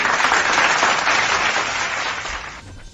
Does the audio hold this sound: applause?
yes